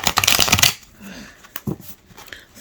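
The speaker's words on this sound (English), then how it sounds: "And then overhand, it does pretty good." A small holographic tarot deck is overhand shuffled, giving a dense, close riffle of flicking cards for under a second, then a few scattered soft card taps and handling sounds.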